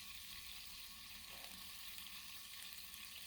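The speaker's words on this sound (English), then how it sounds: "Can you hear the sizzling? That means it's working." Chicken sizzles on an outdoor griddle in foggy weather, a faint, steady frying hiss that continues without pause and with no voices.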